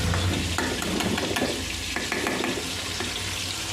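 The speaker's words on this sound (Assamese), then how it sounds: "দালিটো অলপ ভাজি লৈছোঁ।" Lentils (dal) frying in a pan in a home kitchen, giving a steady close sizzle with scattered crackles and light stirring clinks, continuous and alone without talk.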